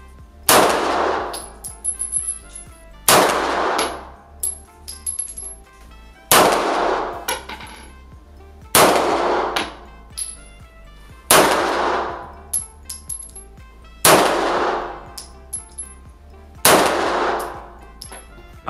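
Pistol shots fired at a fake Rolex Submariner watch: six loud, sharp gunshots come at roughly even intervals of about three seconds, each one followed by a ringing decay and a faint metallic ping.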